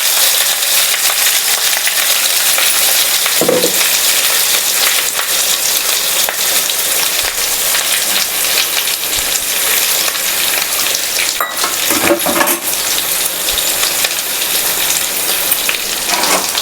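Tomato, onion and green chili paste fries in a hot pan with a loud, steady, dense sizzle that carries on unbroken, marked by a few louder spits and stirring scrapes.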